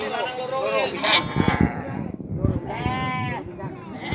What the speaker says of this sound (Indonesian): Mari guys kita lihat-lihat domba-domba dan harga-harganya.